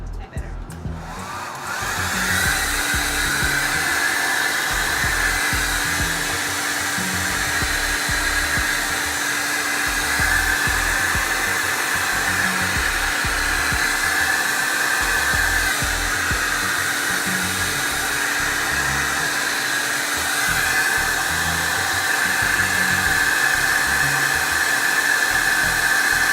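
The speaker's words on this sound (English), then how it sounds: "I'm gonna go ahead and go in with the blow dryer" A blow dryer runs on a lace wig during application, a loud, steady, close whirring hum that holds without a break throughout.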